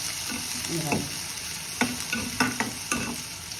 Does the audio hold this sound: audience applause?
no